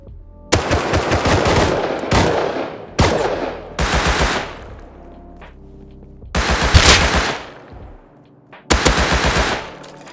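Automatic gunfire in the video game Rust, coming in several loud, close bursts of rapid shots separated by short pauses, each burst trailing off in a ringing echo.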